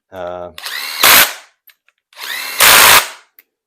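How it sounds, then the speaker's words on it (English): Power tool whirring in two loud, close bursts, each rising into a harsh rattling peak, while driving ARP bolts into a Pontiac 400 engine block, with brief silence between. "So I'm just going to stick these bolts in fast and snug them up."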